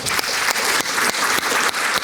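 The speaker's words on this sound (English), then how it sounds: "Let's give another round of applause for our first three speakers, Tom, Sophie, and Tucker." Audience applause at a talk on law firm workflows, a steady wash of clapping from a room full of people, close and fairly loud throughout the short burst.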